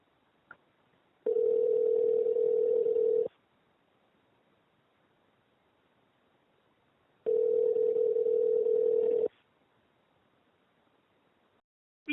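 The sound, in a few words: telephone ringing at the start of a recorded phone call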